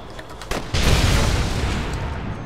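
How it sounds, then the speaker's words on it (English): An in-game explosion in Red Dead Redemption, a sudden heavy boom followed by a long, roaring rumble of debris that fills the rest of the moment. "explosions are always fun"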